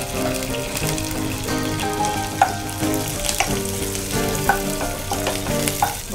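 Dried red chillies and curry leaves fry in hot oil, a loud steady sizzle with stirring scrapes and occasional small pops throughout.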